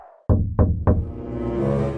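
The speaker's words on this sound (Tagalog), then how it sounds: "sa pintuan kung saan ay may kumakatok" Three firm, evenly spaced knocks on a wooden door, followed by a rising, sustained tone that swells and lingers.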